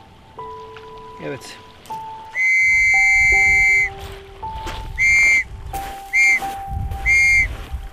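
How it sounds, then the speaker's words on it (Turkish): Military attack whistle blown for British troops at the 1915 Gallipoli landing: a long shrill blast followed by three shorter bursts, loud over steady background tones, with a voice speaking between them. "İngiliz birliklerine de bir taarruz düdüğü."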